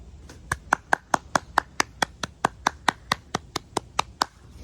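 Hands clap at a steady, even rhythm, roughly seventeen sharp, close claps in a row with no voices, as one person applauds alone.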